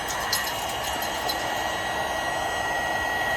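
A hot air blower runs steadily as it heats heat-shrink solder sleeves over wire connectors during a ham radio install on a Polaris. Its broad, even whoosh stays loud and constant throughout, with no talk.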